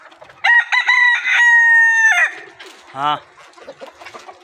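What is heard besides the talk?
Golden Misri hens clucking in a poultry farm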